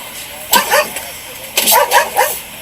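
A police dog barks from behind thick glass, two short bursts of yipping barks, fairly close and loud over a quiet background.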